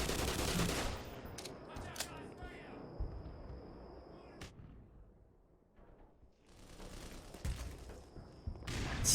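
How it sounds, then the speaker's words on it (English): Dense bursts of automatic gunfire and blasts from grenades in a Fallout video game rattle loudly, break off for a quieter stretch, then resume, with a voice talking beneath the action. "Stop it with the grenades. And the bullets."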